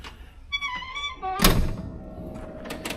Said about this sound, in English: Soft close still works. You can hear it, and it caught.